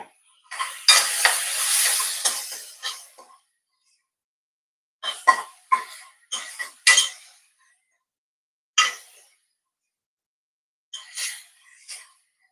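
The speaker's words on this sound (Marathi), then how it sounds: "टोमॅटो परतून घेतलाय मी." Tomatoes sautéed in a pan with salt added, heard as bursts of sizzling and scraping from stirring, separated by silent pauses, close and moderately loud.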